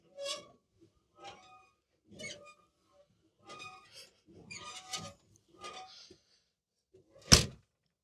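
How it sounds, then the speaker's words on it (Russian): Several creaky squeaks from the body of an old GAZ-21 Volga car, spaced out with short gaps, then one loud sharp thud at the end. "Вот так он скрипит. Это всегда на всех Волгах. Это ее характерный скрип."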